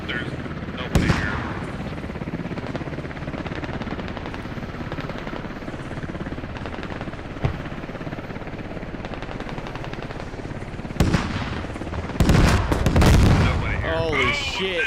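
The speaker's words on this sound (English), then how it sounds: "That rocket strike just hit that heli mid-air." In the tactical shooter Squad, a rocket strike slams into a helicopter in mid-air, heard as sharp explosive booms and a heavy burst of blasts late in the clip over a steady backdrop of rotor noise and distant gunfire, with voices talking throughout.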